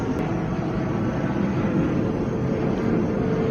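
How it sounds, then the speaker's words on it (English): Low, steady broadband rumble of an airplane passing overhead as it comes in to land, holding at a constant level throughout with no voices. "That's a plane coming in for a landing."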